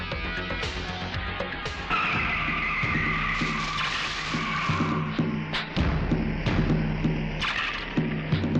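A car skids with screeching tires and comes to a halt in a 1996 Hindi action film scene, with rising squeals and thuds over music, loud and close.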